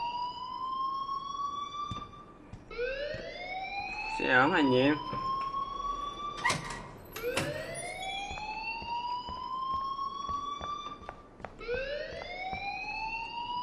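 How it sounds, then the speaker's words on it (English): A school alarm in the video game Life is Strange wails in rising, repeating siren sweeps that fill the whole stretch, with voices talking over it. "please turn off that alarm since that's your job"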